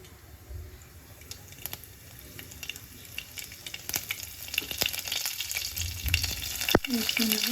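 Cumin and mustard seeds crackle and sizzle in hot oil, a close frying hiss dotted with sharp pops and spits that grow busier toward the end, with no talk.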